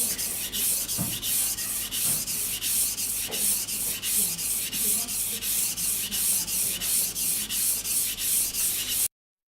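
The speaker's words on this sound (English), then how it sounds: "You can sharpen from top into the bottom." A knife blade is sharpened on a Japanese whetstone with a guide rail, giving a close, rhythmic rasping stroke repeated about twice per second in a steady back-and-forth pattern.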